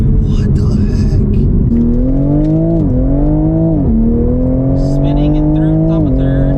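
A Toyota Supra with stock exhaust revs hard and upshifts through the gears, a loud close engine note climbing, dropping at each shift and climbing again, with a voice speaking over it.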